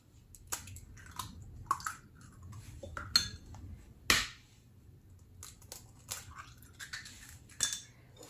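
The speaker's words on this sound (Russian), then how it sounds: "Теперь беру 2 яйца." Two eggs are cracked into a bowl while making a no-bake cake, giving a series of sharp, quiet taps and clinks of shell against the rim, spaced irregularly in a quiet kitchen with no talk.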